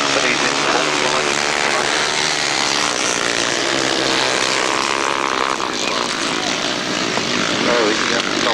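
A 500cc grasstrack racing motorcycle at a 1992 grasstrack meeting gives a loud, sustained, high-revving engine roar that swells and fades slightly as it runs, with other machines blended into a constant wall of noise.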